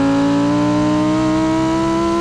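A 2019 Lamborghini Huracan Evo supercar's 631bhp naturally aspirated engine sings steadily at high RPM, spinning up to around 8,500 rpm, a loud, sustained, rich harmonic howl with no talk over it.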